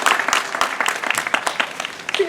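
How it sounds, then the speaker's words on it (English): An audience claps at Clearwater Marine Aquarium after a rough-toothed dolphin training trick. The applause is brief, dense and close, with scattered voices mixed in. "Yeah, you guys can clap for that."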